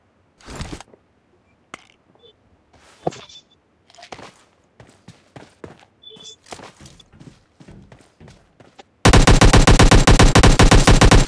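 Rapid machine gun fire in a battle royale video game, bursts of shots near and loud between quieter footsteps and effects, ending in a long, dense, continuous burst of automatic fire; no talk.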